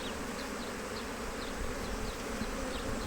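A colony of honeybees hums without pause at an opened hive being closed up after inspection, the steady swarm-drone close and even throughout, with no voices.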